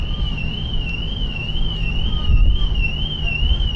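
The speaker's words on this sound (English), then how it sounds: "I think that might be my alarm going off." A car alarm wails with a steady, warbling high-pitched siren tone, moderately distant, over low rumbling background noise.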